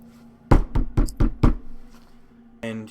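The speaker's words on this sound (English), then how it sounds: "Knock, knock, knock." Knuckles knock on a closed apartment door, five sharp raps in an even rhythm, close and distinct against a quiet room, followed by a short tonal sound.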